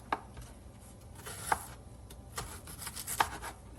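A knife chops red onion for a salad, with a few sparse, distinct cuts against the board spaced about a second or more apart, quiet and close, over a low background hum, with no talk.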